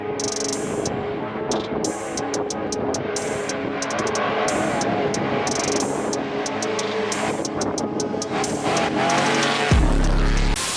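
A trophy truck driving in the high desert near Barstow, its engine roaring loudly and continuously, with rapid bursts of higher-pitched noise and a heavy low thump near the end.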